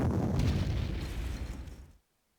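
Artillery fire in the wargame Panzer Corps: a single loud, near boom with a rumbling tail that fades over about two seconds, then cuts to silence.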